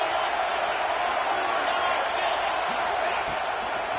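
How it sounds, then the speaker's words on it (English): Crowd at a college football playoff game on third down, a loud steady roar of cheering that holds at the same level throughout with no clear breaks. "3rd down and the crowd really getting into it"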